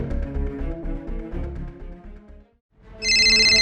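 A phone rings with a loud, bright electronic tone. It starts abruptly after a short pause that follows a stretch of music, then holds steady and close.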